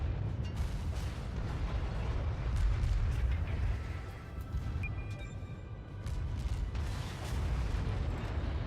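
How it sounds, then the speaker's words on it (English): Warship guns firing a broadside in the naval game World of Warships, deep rumbling booms rolling one into another across several seconds, heavy and continuous. "fire broadside starboard, I guess"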